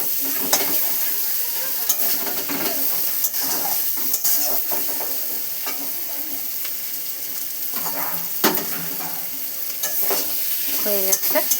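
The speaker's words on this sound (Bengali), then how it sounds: "নাড়াচাড়া করে নামিয়ে নেব।" Prawn, potato and bitter gourd curry being stirred in a pan, with a steady sizzle under repeated scraping and clinking of a spatula against the metal, continuous and close for the whole stretch, no voices.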